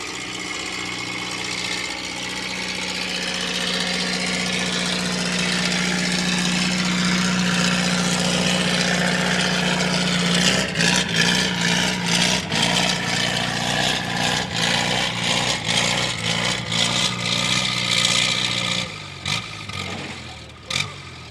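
A Super M tractor's engine roars at a barnyard tractor pull at a county fair, a loud sustained drone that holds steady, then breaks into pulsing chugs before easing off near the end.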